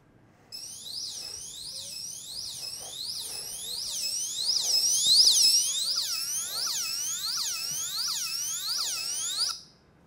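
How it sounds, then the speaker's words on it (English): An AirShield internal security siren, set off by motion detection, wails with a rapid repeating rising sweep, loud and continuous for about nine seconds before cutting off abruptly. "That's now going to trigger the AirShield internal siren."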